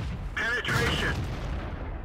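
Tank cannon fire in World of Tanks: a short, heavy booming blast rolls out over a low rumbling battle backdrop, with some brief tonal game sounds layered on top.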